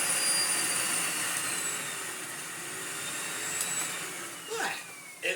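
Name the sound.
Miele Blizzard CX1 vacuum cleaner running on medium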